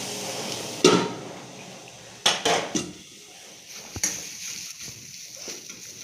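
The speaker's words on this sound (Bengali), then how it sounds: "এবার আমরা চাপা দিয়ে দেবো।" A metal lid clanks onto a pan of frying carrot and beetroot, a few sharp close knocks and rattles over a low sizzle that quiets once it is covered.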